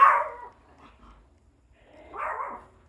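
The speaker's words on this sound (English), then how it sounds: "always starts barking when I do a video" A dog gives two barks, about two seconds apart, fairly close and moderately loud, with quiet between them.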